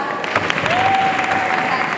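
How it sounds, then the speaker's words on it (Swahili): Audience applause at an award ceremony, a dense, steady patter of many hands clapping together, with a faint voice and a brief tonal whistle mixed in. "Kwanza tumpigie makofi mengi Fatma"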